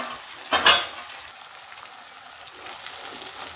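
Elephant foot yam sautéed and turned over in plenty of oil for karunai kilangu masiyal, giving a steady crackling sizzle with a brief louder scraping burst near the start as the pieces are flipped.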